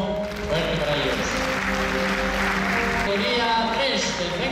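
Applause from a theatre audience for hill-climb event participants, carrying on under music or a loud voice that rings with tonal lines throughout, the clapping forming a hissy bed beneath.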